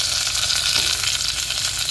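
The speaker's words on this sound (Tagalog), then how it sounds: "Gigisahin muna natin yan." Garlic, onion and eggplant sautéing in a pan, a steady dense sizzle that stays loud and close throughout with no talking.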